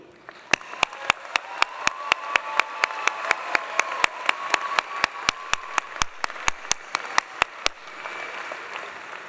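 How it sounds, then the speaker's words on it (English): A commencement audience gives a round of applause for student leaders, with sharp, regular claps rising above a broad wash of clapping for about seven seconds before fading. "Please join me in a final round of applause and appreciation."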